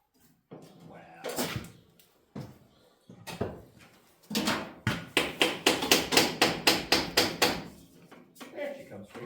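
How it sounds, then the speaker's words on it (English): Hammer striking a stuck part on a Farmall C tractor: a few scattered metallic blows, then a fast, even run of about a dozen loud hits. Voices speak between the strikes. "It just wanted to be hit on with a hammer."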